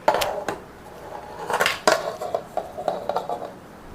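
A baked biscuit cake is knocked out of its pan into a dish: a series of sharp metallic taps and clunks, close and fairly loud, with a couple of heavier knocks and lighter rattling in between.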